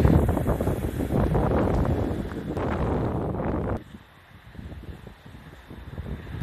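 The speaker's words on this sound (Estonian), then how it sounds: "aga tuul on jõhkev, nii et vabandust, kui heli on kefa" Strong outdoor wind buffets the microphone with loud, continuous rumbling roar that suddenly drops to a quieter gusty hiss partway through, then builds again.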